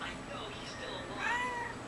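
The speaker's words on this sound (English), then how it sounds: "Hi, kitty." House cat giving a soft, brief meow, quiet and close, against a faint background hiss with a person speaking gently nearby.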